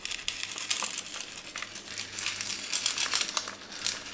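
Pebbles are poured onto a repotted Miltoniopsis Princess Diana orchid pot as a top layer, giving a continuous dry crackling rattle of small stones that rises and falls for several seconds, close and fairly quiet.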